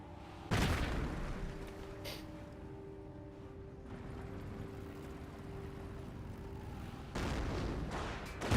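Mortar rounds strike anti-tank guns on a Company of Heroes battlefield, giving two loud booming blasts several seconds apart over a low, steady rumble of battle ambience.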